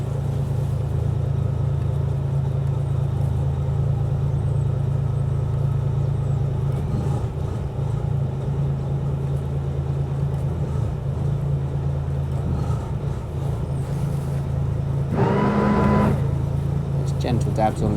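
Twin inboard engines of a 2007 Sunseeker Portofino 47 sports cruiser rumble steadily at low revs while manoeuvring into a pontoon berth, a deep continuous drone with brief surges and someone talking over it throughout.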